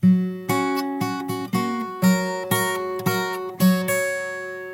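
A guitar plays one bar of plucked notes in a steady rhythm. About nine clear, ringing notes sound one after another, each decaying before the next, with no talking.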